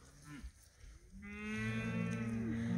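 Bull calf lowing while being loaded onto a livestock trailer alongside a big bull, a long drawn-out moo rising loud and close after brief grunts.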